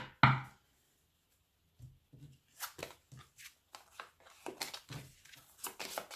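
Tarot cards being shuffled: one sharp riffle at the start, then a pause, then a run of soft, uneven flicks and slides of the deck, close and quiet.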